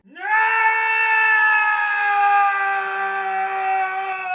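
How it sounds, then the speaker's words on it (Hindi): A person outdoors cries and screams in pain in one long, loud wail. It rises sharply at the start and then holds a steady, tonal pitch for several seconds. "बाहर से किसी इंसान के रोने और चिल्लाने की इतनी दर्द भरी आवाजें आ रही थी।"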